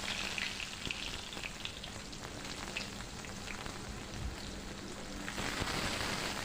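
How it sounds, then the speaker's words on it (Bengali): Cut pieces of ridge gourd hiss and sizzle steadily in hot, spiced oil. The frying stays broad and even throughout, without talk, and gives only faint clicks of movement. "এবারে আমি কেটে ধুয়ে রাখা ঝিঙেগুলো এর মধ্যে দিয়ে দিচ্ছি।"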